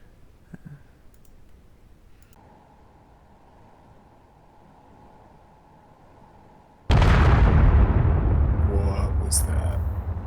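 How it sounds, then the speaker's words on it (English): A rock is blown up in a sudden loud explosion that bursts in after a stretch of quiet hum and faint clicks, then rumbles on as a sustained roar with crackling debris. "Here's some explosions to enjoy."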